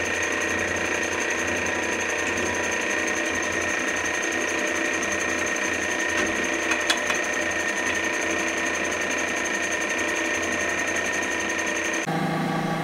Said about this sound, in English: The drill press made putting the bolt holes in easy.